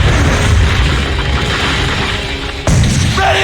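Heavy cannon fire from an enemy ship in Assassin's Creed III during a naval battle, a loud continuous booming roar with a sharp break near the end before the blasts resume.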